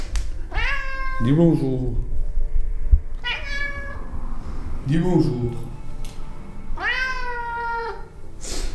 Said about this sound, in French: Et comme vous pouvez l'entendre, il y en a une qui miaule.